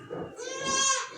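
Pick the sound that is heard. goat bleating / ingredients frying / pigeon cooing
goat bleating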